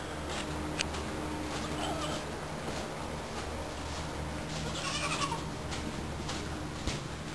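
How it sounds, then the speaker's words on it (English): Goats bleating inside a barn on a goat farm, a few faint, distant calls over a steady background hum, with no one talking. "we'll continue through the barn on our crusade to find the lovely little goats."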